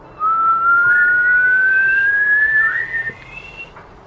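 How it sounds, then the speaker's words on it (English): A shrill kettle whistle sounds steadily for about three seconds, its pitch wavering and rising slightly before it cuts off, leaving faint background noise. "the kettle's going to be on soon. It's going to be whistling"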